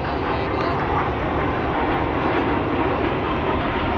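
Fighter jet at an air show in Prayagraj, heard as a continuous loud, broad engine roar, steady throughout as the aircraft flies past.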